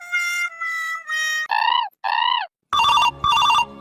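Phone ringing with bright electronic ringtone bursts, three sustained tones then rising warbles and tighter trills, loud and close, with no talking.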